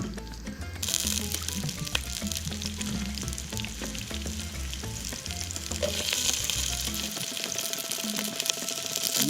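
A single very large shallot sweating in a pan gives a steady, loud sizzle and frying crackle with a few stirring scrapes, and the sizzle quiets near the end.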